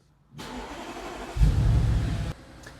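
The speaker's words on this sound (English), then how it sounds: "to start the vehicle up, it's actually a push-button start, so we'll do that now" An Audi RS6 Performance V8 engine cranks from a push-button start and catches, settling into a steady idle before swelling into a deeper, louder rumble that cuts off abruptly near the end.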